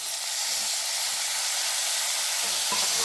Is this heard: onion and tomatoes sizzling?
yes